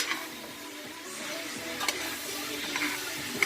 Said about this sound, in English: stir it through so they don't sit on the bottom and burn